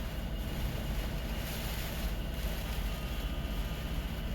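Wind buffeting a parked truck in bad weather, a constant loud rushing roar with pulsing gusts that swell and ease every second or so, heard from inside the cab.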